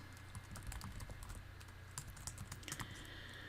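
Someone types JavaScript code on a computer keyboard, giving a quiet, fast run of irregular key clicks with short pauses and no voices.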